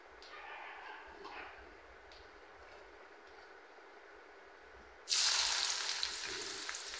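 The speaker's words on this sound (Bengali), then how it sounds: "মাংসতে দেওয়ার জন্য এখানে আমি পেঁয়াজ বেরেস্তা করে নিচ্ছি" Sliced onions frying into crisp birista for a beef and potato curry, starting as a soft background sizzle, then a sudden loud hiss as more onions hit the hot oil and keep crackling steadily.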